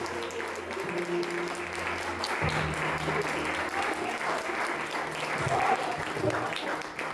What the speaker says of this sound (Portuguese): E você que crê, aplaude o Senhor Jesus bem forte.